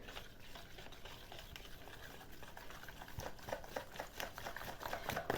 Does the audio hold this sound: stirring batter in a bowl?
yes